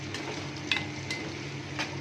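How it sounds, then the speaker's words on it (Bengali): Finely chopped onion frying with cumin seeds in hot white oil for a South Indian prawn curry, a steady close sizzle with a few soft stirring scrapes and no talking. "পেঁয়াজটা ভাজা হবে।"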